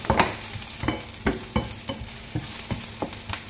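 Onion sautéed in olive oil in a home pan, a steady sizzle beneath repeated scraping strokes of a spatula or spoon stirring at an even pace, close and fairly loud, with no voices.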